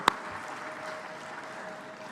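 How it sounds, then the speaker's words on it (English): At the 3i Africa Summit 2024, a conference audience in the main hall gives a round of applause: a sharp clap at the very start, then a steady, moderate patter of many hands. "Give yourselves a 3I round of applause."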